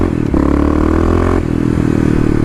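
A KLX351 motorcycle climbs an off-road hill in second gear. Its engine roars loud and close, rising and straining through a sustained rev before easing back into a rough, clattering idle-like drone.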